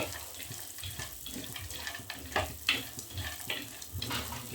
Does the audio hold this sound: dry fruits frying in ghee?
yes